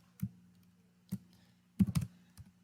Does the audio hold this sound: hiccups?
no